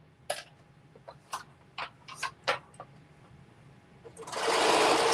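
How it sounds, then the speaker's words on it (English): Several soft ticks and clicks come from handling a sewing machine. Then the motor starts and runs loud and steady as the machine stitches a top and bottom piece together. "I am literally sewing these. Sewing this top and bottom together."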